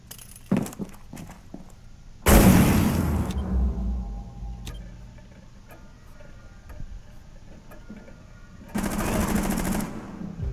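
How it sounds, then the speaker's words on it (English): Automatic gunfire in the Rainbow Six Siege video game, on the Kafe Dostoyevsky map, comes in two loud bursts, one early and one near the end. Scattered light ticks and clicks fill the quieter gap between them. "They're shooting into the room from windows."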